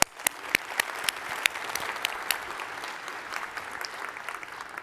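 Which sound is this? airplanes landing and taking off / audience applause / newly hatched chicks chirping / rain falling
audience applause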